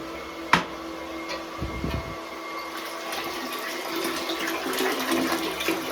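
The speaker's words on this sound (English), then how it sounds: "our water is now draining." Water drains out of a home water heater with a steady gushing, hissing flow, a sharp knock near the start and a few low thumps, and no talk.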